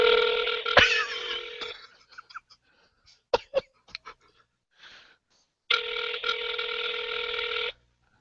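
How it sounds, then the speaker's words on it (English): A phone ringback tone sounds twice, long electronic rings separated by a pause with a few clicks and a soft cough between them. "It's ringing. It's ringing."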